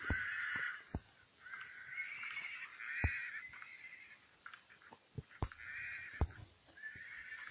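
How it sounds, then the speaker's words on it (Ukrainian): Several whinnies from a white horse in a video game ring out one after another, bright and fairly close, with occasional sharp thumps and clicks between them. "О, біла лошадка. Люблю білих коней."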